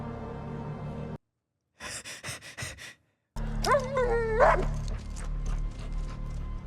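A dog whimpers and whines in a tense scene, high wavering cries rising and falling after a brief silence, close and fairly loud over a low rumbling background.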